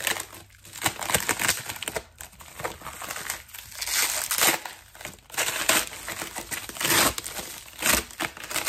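Crinkling and crumpling wrapping material is pulled off a glass perfume jar, a continuous close rustle with irregular bursts and brief quieter gaps, with no talking.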